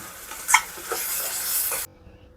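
Ground masala paste with curry leaves being stirred in a frying pan for meal maker masala curry, a scraping stir with a soft sizzle running steadily for about two seconds before cutting off, with no talk.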